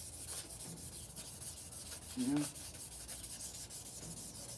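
Light, steady rubbing of abrasive cloth against a crankshaft journal, a soft continuous scuffing of metal with a brief louder stroke in the middle and a short spoken remark.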